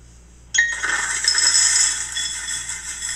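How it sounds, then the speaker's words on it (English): A sudden rush of cereal pours and rattles into a bowl, a dense clattering hiss that continues steadily, close by. "I hear cereal pouring in the bowl."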